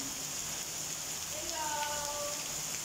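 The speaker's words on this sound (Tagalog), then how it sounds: "Ayan, lakas ang ulan." Heavy rain during a storm makes a steady, even hiss, fairly faint throughout, with a brief tonal voice-like sound partway through.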